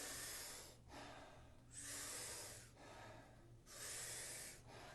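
Soft breaths pushed out through the mouth during Wim Hof breathing, three airy exhales about a second apart, close and gentle with no talking.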